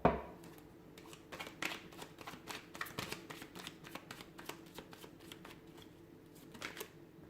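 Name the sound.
shuffling tarot cards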